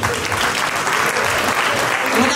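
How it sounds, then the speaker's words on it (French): Dense, loud applause from an audience at a 60th birthday celebration in Montmagny, sustained and steady across the whole stretch with no pause. "On applaudit très très fort."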